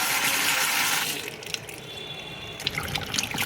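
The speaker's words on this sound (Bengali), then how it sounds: "পটলগুলো ভালো করে ধুয়ে নিচ্ছি" Pointed gourds (potol) are rinsed under running tap water in a sink, a steady close splashing flow that thins out partway through into lighter trickles and drips.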